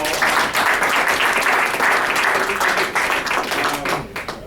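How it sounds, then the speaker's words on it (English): Audience applauding a speaker, dense steady clapping from a roomful of people, loud and close, tapering slightly at the end. "Let's give her a big round of applause."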